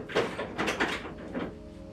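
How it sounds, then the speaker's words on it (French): A door tried in a video game gives a few quick rattling clunks, followed by a sustained tonal game sound, with no talk. "Malik, t'as essayé la porte?"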